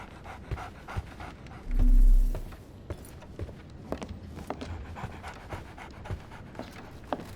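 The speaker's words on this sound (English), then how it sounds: "So, Barnes has a dog now." A dog pants steadily in the Sherlock Holmes The Awakened game, a quick rhythmic breathing heard up close, with soft footsteps and a brief low rumble partway through.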